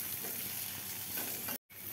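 Dried fish with salt and turmeric fries in hot oil in a pan, a continuous dense sizzle heard close and steady, broken by a brief silent gap near the end, with no speech.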